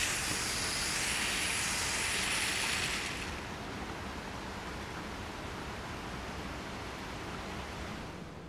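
A Cheerson CX-36C camera drone flying, a steady broadband whir of propellers that is louder and brighter for the first few seconds, then continues as a duller, quieter hum.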